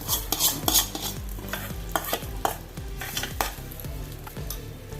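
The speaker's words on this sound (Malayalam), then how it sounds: "കുക്കറിലേക്ക് ഒഴിച്ചു കൊടുക്കാം വറവ്" Hot oil tempering for jackfruit curry sizzles steadily while a utensil scrapes and clinks against the pan in repeated stirring strokes, close and fairly loud.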